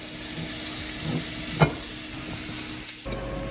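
Steak and burgers cooking on a grill give a continuous loud hiss and sizzle, steady throughout, with a brief knock partway and a change in tone near the end.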